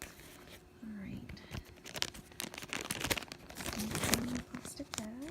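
A plastic bag crinkles and rustles up close, growing louder midway, with a faint low voice and a few squeaky sounds in the background.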